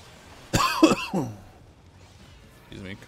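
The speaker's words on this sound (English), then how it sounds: "Excuse me, coughing my microphone again." A gamer coughs into a microphone during a Final Fantasy XIV Paladin raid, two or three sharp, close, loud coughs followed by a quieter breathy sound.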